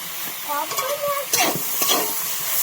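Vegetables stir-fried with salt and soy sauce for chow mein, a close sizzle with rhythmic scraping and tossing of the spatula against the pan, with a brief voice-like tone near the start.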